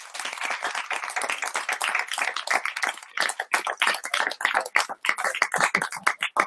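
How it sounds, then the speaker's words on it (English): Audience applause for a panel at an arts talk on big arts as small business, a dense run of handclaps fairly close, steady then breaking into sharper individual claps toward the end. "Big round of applause to our panel"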